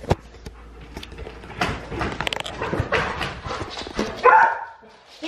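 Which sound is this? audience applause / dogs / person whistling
dogs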